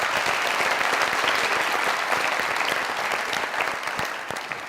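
Studio audience applause at a comedy talk show taping, a dense, steady wash of clapping from a large crowd that holds loud throughout and tapers slightly toward the end, with no talking over it.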